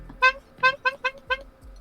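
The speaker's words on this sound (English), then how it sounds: "I'm going to honk my funny muted horn with emotion." A funny muted horn honked in about five short, nasal toots in an uneven rhythm, close and fairly loud, each blast brief with a buzzy tone.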